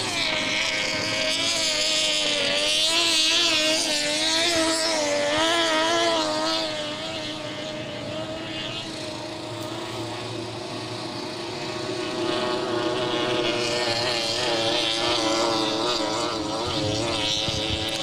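APBA inboard racing boats on Mott Lake, Michigan, roaring steadily with high-pitched engine whine that swells and fades as boats pass, loud and sustained with wind buffeting the microphone.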